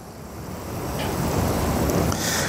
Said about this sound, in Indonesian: Anginnya cukup kenceng ya di sini ya, di Bali ya, karena lokasi rumah kita dekat sama pantai